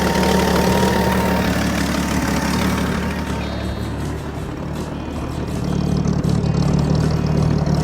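A bullnose Ford pickup truck's 300 engine with a two-barrel carburetor idles through its exhaust with a loud, steady, deep rumble that dips slightly midway and then swells back.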